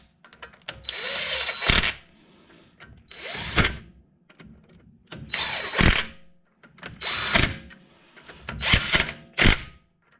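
A power tool snugs down 10mm bolts on the front brake caliper of a Toyota pickup or 4Runner. It comes in five short, loud whirring bursts separated by brief pauses.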